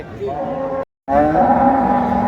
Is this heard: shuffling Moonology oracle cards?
no